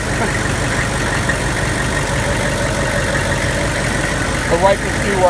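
A heavy Hummer H1 engine idles nearby with a constant low, rough rumble, steady and loud, with a slight clatter near the end.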